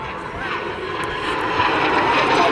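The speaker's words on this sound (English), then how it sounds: "So this aircraft is essentially a combat derivative of the Jet Provost Mark V." A BAC Strikemaster jet, the combat derivative of the Jet Provost, passes at Southport Airshow with a steady broad engine roar that swells slightly louder toward the end, heard continuously without a break.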